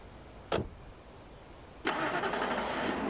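A car engine starting in the video game Alan Wake: a short click, then a pause, then the engine catches and settles into a steady idle.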